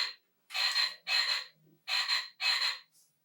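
Small frog croaking in four loud, raspy bursts of about half a second each, close up, with a brief soft sound between them.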